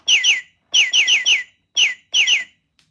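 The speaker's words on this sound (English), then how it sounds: "Just a bird chirping." A bird chirps in quick bursts of bright, sweeping notes, several calls strung together with short pauses between groups, clear and close with no talking.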